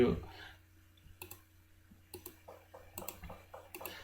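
A computer mouse clicks a few times, sharp and faint, while working in Microsoft Access; the spaced clicks sit under quiet, ongoing talk.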